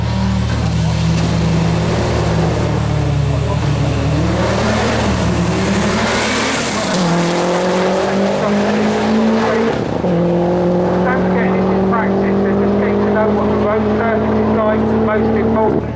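Race car accelerating hard at the Brighton Speed Trials seaside sprint, a loud close engine howl climbing through several gear changes, with a commentator talking over it.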